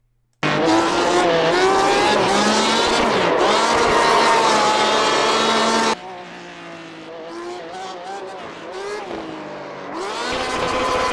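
A Porsche RSR in the iRacing simulator drifts with a loud, continuous engine roar and sustained tire squeal, then cuts abruptly to a quieter stretch of wavering engine note and skidding tires that builds again toward the end.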